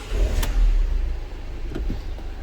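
A Mercedes Sprinter 316 CDI diesel with 396,100 km, just after an engine rebuild and with air in its fuel system, cranks with a sharp click, then catches in a brief, loud low burst and settles into a quieter idle rumble.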